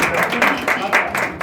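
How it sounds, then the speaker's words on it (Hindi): Audience applause at a stage event during a Bhojpuri talent contest, a dense crowd of hands clapping steadily in surging bursts with a few voices mixed in, loud and close. "सबसे पहले जोरदार तालियों से स्वागत किया जाए"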